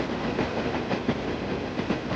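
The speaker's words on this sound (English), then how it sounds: "Here comes the train." A cartoon train rolls past a railway crossing with a continuous rumbling clatter and faint rhythmic wheel clicks, steady and fairly loud throughout.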